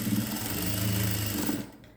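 A sewing machine runs in one steady, fast burst, stitching a gown for a newborn baby, then stops abruptly near the end.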